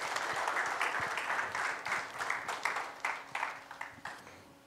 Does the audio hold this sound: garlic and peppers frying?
no